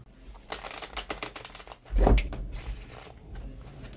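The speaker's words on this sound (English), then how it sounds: "Now that I have successfully shuffled my cards, I'm going to shuffle them again." A deck of playing cards is shuffled up close as a rapid papery riffle of clicks, with a louder thump midway and a softer rustle after it.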